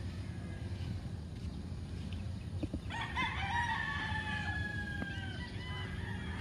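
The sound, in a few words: roosters crowing at a game fowl farm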